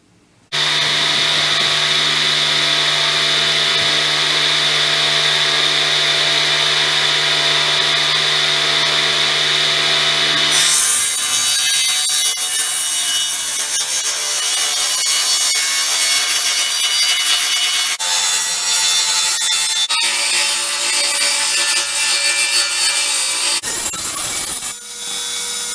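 Power saw cutting wooden pieces for a DIY cordless drill charging station, a loud continuous droning whine that shifts pitch as the blade moves through the wood, running without pause and with no talk.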